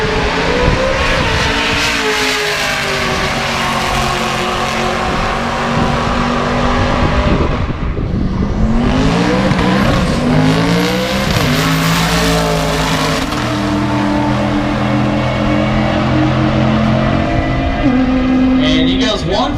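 Loud engines roar and rev as street race cars accelerate hard in a roll race at Street Car Takeover Charlotte, gears shifting through rising and falling pitch, with a second car passing midway.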